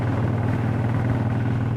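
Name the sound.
Triumph Speedmaster motorcycle engine running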